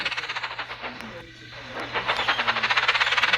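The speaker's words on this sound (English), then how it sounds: "Edward heard chuffing sounds." A steam engine chuffs with a rapid rhythmic beat over a steady hiss and a low hum. The beat fades briefly midway, then returns stronger and faster.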